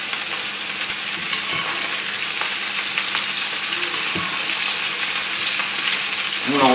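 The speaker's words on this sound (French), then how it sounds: "On va l'arroser avec son jus de cuisson." Roast beef sizzling as it is basted with its own cooking juices, a loud, steady close frying crackle with scattered pops and spoon scrapes throughout.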